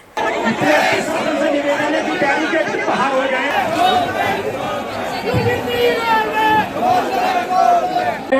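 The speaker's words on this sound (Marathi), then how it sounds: "दिल्लीतल्या जंतर मंतरवर अनेक लोकांची गर्दी जमली आहे आणि ते या ठिकाणी आरक्षण हटवण्याचे नारे देत आहेत." A large protest crowd at Jantar Mantar in Delhi shouts slogans calling for reservations to be scrapped. Many voices merge into a loud, steady roar of chanting and yelling that rises and falls without a break across the whole stretch.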